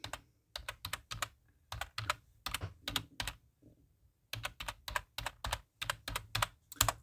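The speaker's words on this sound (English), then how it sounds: "You will hear a lot more typing here, I do apologise." Rapid bursts of typing on a computer keyboard in clustered runs of keystrokes with short pauses between, close and fairly quiet, no talking.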